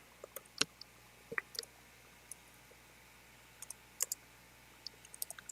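Faint, scattered clicks of keys being typed on a keyboard to enter Minecraft coordinates, arriving in small irregular bursts over a quiet background, with no talking.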